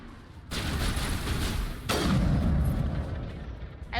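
Weapon fire in the video game Mass Effect booms out in two heavy, loud blasts, each followed by a lingering rumbling tail, with a sharp pop near the end.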